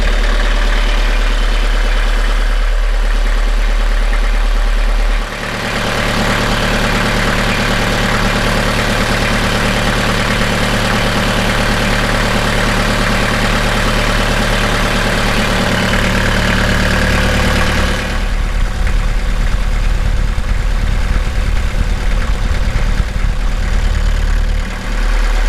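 A Beta 38 marine diesel engine idles loudly and steadily nearby; the tone shifts twice as the oil filler cap is removed, turning breathier and gassier for a stretch before returning to a plainer idle.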